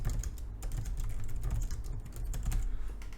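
Someone typing a section name on a computer keyboard, a fast, continuous patter of key presses close to the microphone with no talking.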